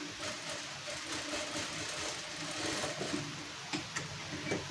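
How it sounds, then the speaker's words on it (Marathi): Sewing machine running a steady, moderately loud stitch along the edge of a blouse, with canvas backing and lining under the fabric; a continuous mechanical whir with a faint rapid ticking and no talk. "तर अशी आपल्याला व्यवस्थित टीप मारून घ्यायची आहे."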